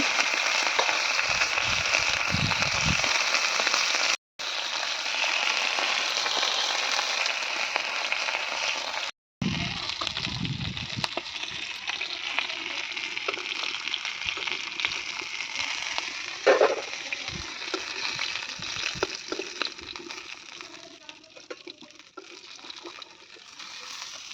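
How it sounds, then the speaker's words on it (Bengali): Bhola fish pieces frying in hot oil for a Bengali village curry, giving a steady, close sizzle that runs almost without pause, broken only by two brief cuts, with no talking. "ভোলা মাছটা ভাজা হচ্ছে।"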